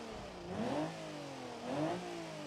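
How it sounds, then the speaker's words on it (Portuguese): A Mercedes car engine in BeamNG.Drive, revved twice in a row, each rise climbing smoothly from idle and falling back, moderately quiet and heard without talk. "Vamos dar uma escutadinha no motor."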